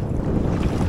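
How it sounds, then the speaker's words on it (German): Wind gusts across a sheltered bay of Lake Saimaa during a canoe trip, a steady buffeting rush close to the microphone with a low, rough roar and no voices. "Hier in der Bucht ist der Wind etwas schwächer."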